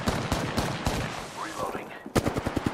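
Gunfire from Apex Legends (Season 7, Horizon): rapid bursts of automatic weapon shots at the start, a brief lull, then another sharp volley near the end, loud and close.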